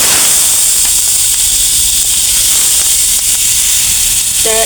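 Fish and onion frying in oil in a wok, a loud continuous hiss and sizzle filling the whole stretch with faint clinks near the end.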